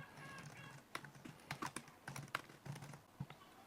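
Test card details go into a payment form on a computer keyboard, heard as quick, close, fairly soft keystrokes in irregular bursts with short pauses and no talking.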